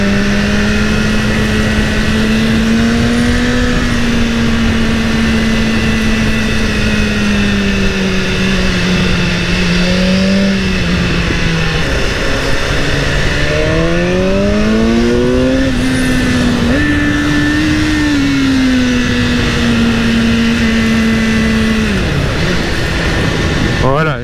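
A BMW S1000R motorcycle engine drones steadily close up, its pitch sliding down then climbing again as it overtakes a Clio RS4 on a mountain pass road, with continuous rushing wind noise throughout.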